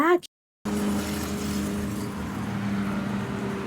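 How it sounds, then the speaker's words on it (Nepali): Several motorbike engines drone steadily and loudly nearby in Hong Kong after a brief gap, holding a low, even hum without clear revs. "देख्नुभयो साथीहरू कस्तो साउन्ड आउँथ्यो बाइकको"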